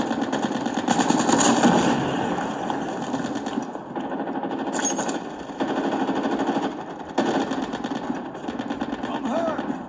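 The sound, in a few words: gunfire in Call of Duty video game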